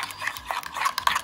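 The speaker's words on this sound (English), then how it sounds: "To this I'm going to add a good pinch of salt and 1/4 teaspoon of ground cumin and just give it a good mix." Plain yogurt with a pinch of salt and ground cumin being mixed in a bowl, giving a brief, close run of soft scraping and stirring sounds with light utensil contact.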